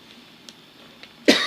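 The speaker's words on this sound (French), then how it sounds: "Non mais là t'es en train de tousser" One sharp, close cough bursts out at the very end, following a quiet stretch of faint room tone with a couple of small clicks.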